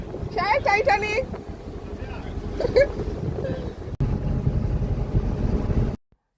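A boat travels across the Tanguar Haor wetland in Bangladesh, giving a steady rumble of motion and wind buffeting the microphone, with brief voices early on before the sound cuts off near the end.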